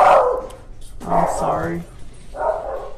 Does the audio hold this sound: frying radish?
no